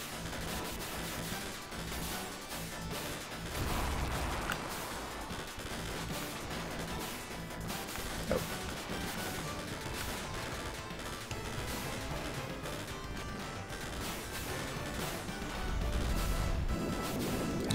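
Bombs explode in the Super Contra arcade game, with a steady barrage of crashing blasts and rapid gunfire running throughout, fairly quiet overall and swelling louder near the end.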